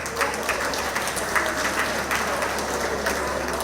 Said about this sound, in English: bring him on with a lusty round of applause